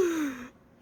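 A narrator's voice imitates a yawn: a single breathy, falling exhale that starts fairly loud and fades out after about half a second, heard alone.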